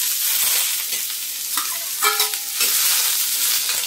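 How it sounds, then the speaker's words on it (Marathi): Ridge gourd pieces roast in hot oil in a pan for a Maharashtrian thecha, giving a constant bright sizzle with a few spatula scrapes and knocks, close up and without speech. "यातच आता आपण हे गिलके 1-2 मिनिटं छान भाजून घेऊया"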